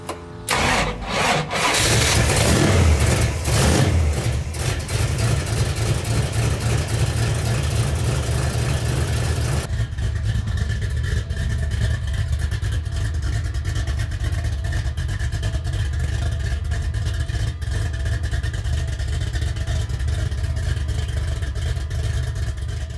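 A 1963 Ford Galaxie engine runs with a loud, rough burst at the start, then settles into a steady, close low rumble that holds to the end.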